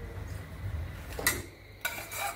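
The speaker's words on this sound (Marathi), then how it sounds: "आणि त्याच्यावर झाकण ठेवायचंय" Metal lid set down on a cooking pan while garlic rice and mushroom gravy are being made, giving two short clanks about a second apart over a quiet kitchen background.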